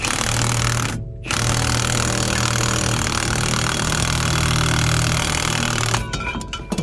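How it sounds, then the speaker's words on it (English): A pneumatic impact wrench hammers loudly and steadily on a 1968 Ford Mustang Coupe, pauses briefly, then rattles on before ending in a clatter. "my impact was hammering way too hard for these things to stay in the grooves."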